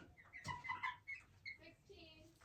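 Chickens cluck and squawk in short bursts nearby, several calls overlapping in a busy farmyard flock of sixteen birds including three roosters.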